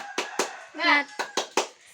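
Children clap a rhythmic classroom spirit cheer: two sharp claps, a brief shouted group call, then three more claps, fairly close and clear.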